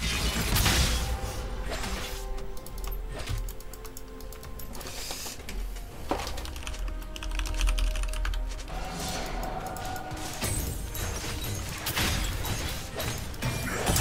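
Continuous, frantic clattering and hard pounding on a keyboard slammed in frustration during a League of Legends ranked match, loud and dense throughout with repeated heavy bangs.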